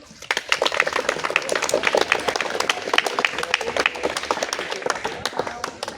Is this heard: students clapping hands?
yes